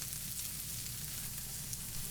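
Onion, garlic, peppers and tomatoes sauté in a pan with a steady, soft, hissing sizzle that stays even and continuous at moderate volume, with no voices.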